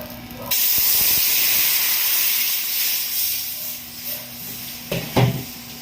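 Coconut cream hits a heated frying pan (kawali) for biko rice cake, bursting into a loud, steady hiss and sizzle that runs throughout, with a couple of clattering knocks near the end.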